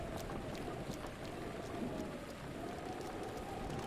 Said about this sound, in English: Oh, I hate rain in this game with a passion.